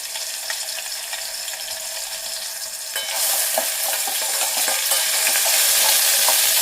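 Garlic paste and tempering seeds (cumin, black pepper, coriander and fenugreek) crackle and sizzle in hot oil for chana dal rasam. The frying grows louder and busier about halfway through, with stirring scrapes and no voices.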